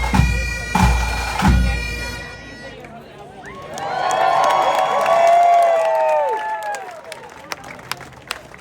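A lively St. Patrick's Day crowd fills a Texas brewery with a steady wash of overlapping chatter, with a couple of loud thumps early on and a swell of mixed voices and whistling tones midway.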